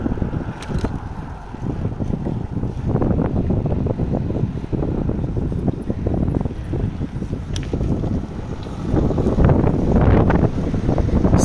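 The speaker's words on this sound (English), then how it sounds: "See, it's windy." Steady wind buffets the microphone during a morning bike ride through a mountain town, a constant loud rumbling roar with gusts swelling near the end and no talking.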